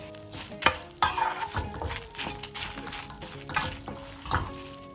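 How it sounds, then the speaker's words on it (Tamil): Toor dal roasting in a pan over a low flame, heard as close scraping and stirring with soft crackles and a few sharper knocks of the spoon against the pan. "துவரம் பருப்பை போட்டுட்டு சின்ன தீ வச்சு பொன்னூறுலாம் வருங்க"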